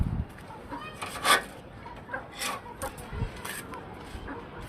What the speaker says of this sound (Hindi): तो मिस्री मुर्गा मुर्गी भी तो गाइस देखें ये रहे।